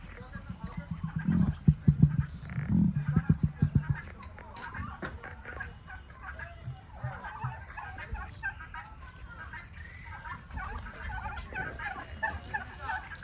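Rapid gobbling ostrich calls burst out in a cluster early on at an ostrich farm in West Bengal, then fainter bird noises continue under people talking in the background.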